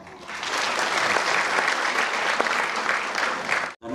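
An audience at a grand book launch for an autobiography claps loudly and continuously, a dense wash of applause that holds steady and stops abruptly at the end.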